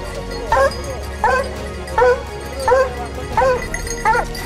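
Spanish scent hounds tracking wild boar give about six separate baying barks at an even pace, close and loud against a quiet outdoor background.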